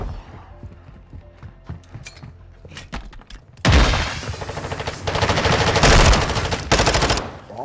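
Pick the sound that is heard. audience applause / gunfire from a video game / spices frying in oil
gunfire from a video game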